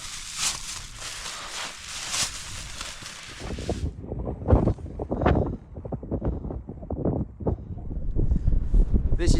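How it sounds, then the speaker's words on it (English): Strong cold wind blowing outdoors on a hunting trip, with gusty rumbling buffets against the microphone, then gentler rustling and movement sounds, moderately loud and close. "It's a lot windier than last night."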